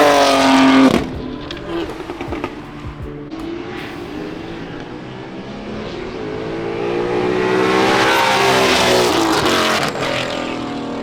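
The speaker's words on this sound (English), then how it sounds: "There was a good amount of cars drag racing." Cars drag race at a drag strip during an import car show, engines revving hard and roaring past with rising and falling pitch, loud and fairly close.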